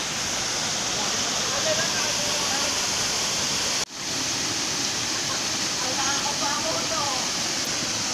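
Constant, dense rushing roar of water at Aloha Falls, loud and close, with voices faintly audible underneath and a brief dip partway through.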